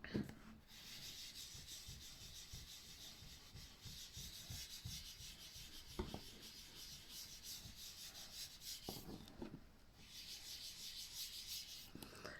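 Paper is rubbed over with a blending tool to mix Sahara sand ink into a card background, giving a soft, quiet, continuous scratchy rubbing with brief pauses.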